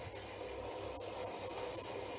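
Water poured steadily over an English Angora rabbit being bathed in a basin, a continuous close splashing and trickling stream with a brief stronger splash near the middle.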